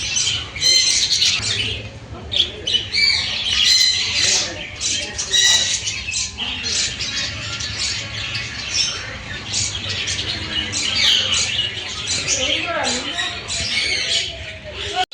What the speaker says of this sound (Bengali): এই পাখিদের কিচিরমিচির আওয়াজটা দারুণ লাগছে